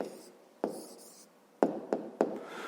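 A pen or pencil writes an answer by hand on paper, soft scratchy strokes close by, broken by a few sharp taps as the writing pauses and resumes.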